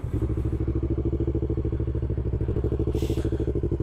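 A motorcycle with a warm engine idles with a steady, rapid exhaust pulse, close by and continuous, with a brief hiss near the end.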